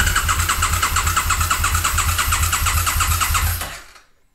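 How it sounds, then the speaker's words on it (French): An Aprilia RSV Mille motorcycle cranks on its electric starter, fitted with a 300 A starter relay and 16 mm² cable, giving a steady, rapid, rhythmic churning for about three and a half seconds before it cuts off. "Vous allez voir déjà comment le moteur se comporte mieux au démarreur."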